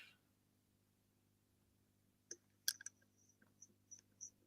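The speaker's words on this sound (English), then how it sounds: "He is now typing again." Keyboard typing during a live draft selection show, a few faint scattered clicks and taps that start partway through after a near-silent opening, sparse and irregular.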